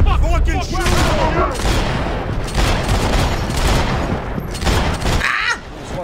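Dense, continuous gunfire in the third-person shooter Max Payne 3, loud and close with overlapping shots and impacts, then a brief lull near the end, with a voice mixed in.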